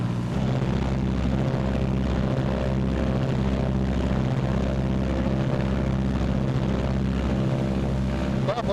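Steady, loud drone of a B-26 bomber's twin propeller engines running up together to about 1,800 rpm, with a rhythmic throbbing beat as the two engines pulse slightly out of sync.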